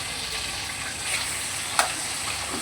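Fish frying in hot oil in a pan, a steady close hiss and crackle with one sharp pop partway through, no voices.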